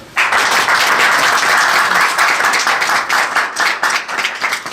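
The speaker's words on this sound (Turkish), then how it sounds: "Bence muhtarımıza burada güzel bir alkış da girer" Loud, steady applause from a gathering honouring a neighbourhood headman at a Green Crescent (Yeşilay) anti-smoking event in Turkey, dense clapping starting abruptly and holding near-constant for several seconds, thinning slightly toward the end.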